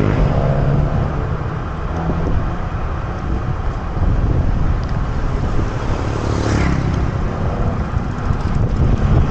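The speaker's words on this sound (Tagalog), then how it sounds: "Tinatangay yung bike ng hangin" Strong wind roars steadily against a microphone during a weekend bicycle ride toward Sampaloc Lake in San Pablo, Laguna, a continuous loud buffeting rumble with gusts and faint road traffic beneath.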